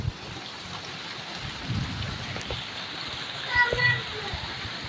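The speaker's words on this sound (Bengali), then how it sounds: "এখন দেখো কি মেঘ করে বৃষ্টি নেমেছে" Rain falls in a steady hiss with splashing water, and a few soft bumps and faint sounds rise briefly above it.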